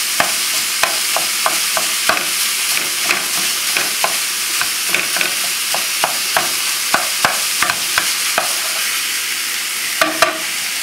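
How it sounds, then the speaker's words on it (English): Ground beef sautés in its own rendered fat in a pot over a high flame with no added oil, sizzling continuously while a spoon scrapes and stirs in regular clicking strokes. "There's enough fat in most hamburgers that you can saute this with no problem."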